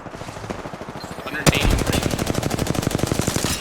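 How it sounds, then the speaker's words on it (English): Gunfire in the Apex Legends video game: a quiet stretch of scattered shots, then a loud sudden burst of rapid, evenly spaced automatic fire that keeps going. "just kept shooting my gun like an idiot"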